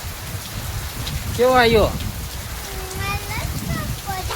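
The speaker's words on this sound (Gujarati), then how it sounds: "પછી વરસાદ કેવો આવ્યો" Steady rain falls and patters on surfaces nearby while people speak briefly over it.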